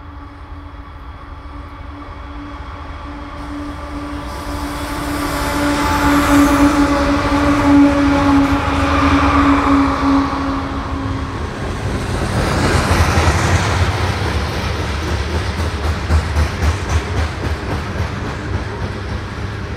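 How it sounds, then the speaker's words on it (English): A long CSX coal freight headed by big GE 4400-horsepower locomotives rounds a mountain bend in the Blue Ridge, engines droning with a steady horn-like tone early, then rolling cars rumble and clatter loudly nearby. "N-759 rounds the bend, making its last descent above Irwin, before turning and climbing towards the Blue Ridge Mountains behind the train."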